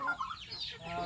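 Chickens in a poultry coop clucking, a few short throaty clucks and squawks, moderately close and fairly faint.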